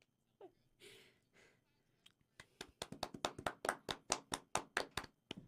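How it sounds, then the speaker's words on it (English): A single person claps hands in a fast, even run of about fifteen sharp, close claps, preceded by a few soft breathy sounds and a brief vocal noise. "Clap."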